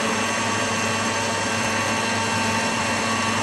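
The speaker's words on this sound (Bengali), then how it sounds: "দেওয়ার পরে আমি এটাকে ভালো করে ব্লেন্ড করে নেব।" A blender whirs loud and steady at close range, churning mango juice with salt and sugar in one unbroken motor drone, with no voices.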